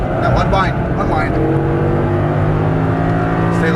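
An Audi R8 accelerates hard on a racetrack, its engine note climbing loud and close while an instructor's voice talks over it throughout.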